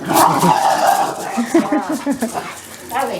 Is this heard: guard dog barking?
yes